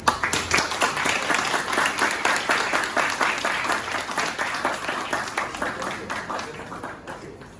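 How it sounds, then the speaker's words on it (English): An audience at a military ceremony opening applauds the Commandant, a lieutenant colonel, with steady, moderately loud clapping that gradually tapers off. "please put a resounding applause for the Commandant, Lieutenant Colonel S.O. Omoyemi."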